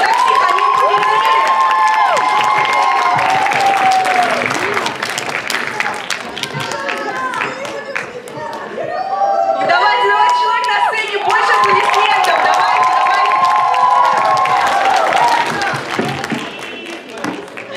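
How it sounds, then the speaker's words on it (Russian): Festival closing-ceremony crowd cheering and applauding winners, with clapping, high shouts and excited children's voices rising and falling in waves, loud and close, dipping briefly midway before swelling again. "Больше аплодисменты, почему так тихо"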